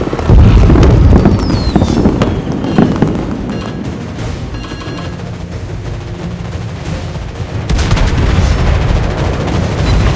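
Loud, dense barrage of naval gunfire and booming blasts in World of Warships Blitz, overlapping heavily with scattered cracks and a rumbling low end throughout.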